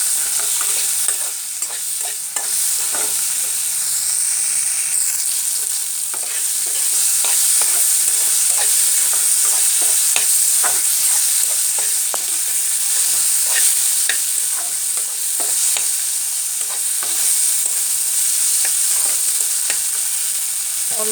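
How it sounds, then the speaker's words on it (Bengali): Tomatoes with salt fry in a pan under continuous bright sizzling, while a utensil stirs and scrapes in frequent irregular strokes for a long stretch, with no talking. "ওটাকে ভাজতে থাকবো। টমেটো যতক্ষণ না পেকেছে ততক্ষণ।"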